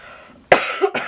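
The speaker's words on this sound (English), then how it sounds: "I'm gonna cough again." A woman coughs twice in close succession, loud and near, with a burst then a shorter second cough, while she works on an eagle portrait in oil pastels.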